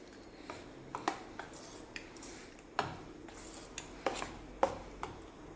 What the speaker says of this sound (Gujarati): હવે આ બધાને સારી રીતના હલાવી લઈશું